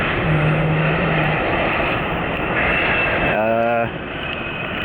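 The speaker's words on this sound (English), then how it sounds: "Delta connection, Canadian regional jet 700 it looks like." A Delta Connection Canadian Regional Jet 700 passes with a steady roaring engine rumble filling the clip, and a voice speaks over the noise partway through.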